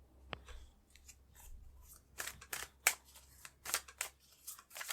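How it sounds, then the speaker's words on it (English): Tarot cards are picked up and handled close by, quiet papery snaps and shuffling rustles coming in short bursts against a hushed room, no talking. "I'm going to pick up more cards."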